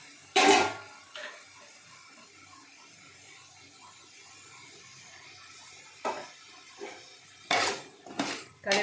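Metal spoon scraping and clanking against a pot of mutton biryani with basmati rice, coriander and mint, in a few sharp bursts separated by quieter stretches, ending with several close clatters as a lid goes on.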